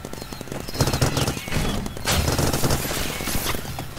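Rapid bursts of P90 gunfire in a Roblox paintball game crackle in quick succession, loud and close, with sharp repeated shots and brief pauses between volleys.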